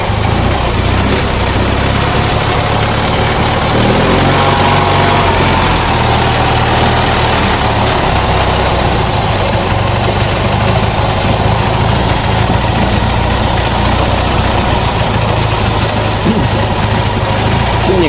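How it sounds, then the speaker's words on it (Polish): A Polski Fiat 126p 600 engine idles close by after a cold start following long disuse, with a steady, even rumble that continues unchanged throughout. "Silnik chodzi, na razie nie chcę tutaj wchodzić na wyższe obroty, ważne, że odpalił."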